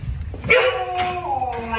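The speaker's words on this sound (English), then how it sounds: "That's my dog." A dog yips and whimpers in a few short, high, tonal cries close to the microphone, over a low indoor background.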